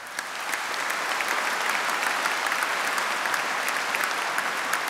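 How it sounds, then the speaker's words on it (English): Sustained, dense applause from a large graduation audience at a university ceremony, steady and even throughout with no talking over it. "A thunderous round of applause for all the university staff."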